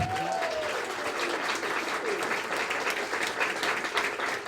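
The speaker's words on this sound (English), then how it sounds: "And a round of applause for our organizers." Steady crowd applause for the organizers of a community gathering held by Our Revolution Thurston and Indivisible Thurston County, continuous and fairly loud throughout, with no break.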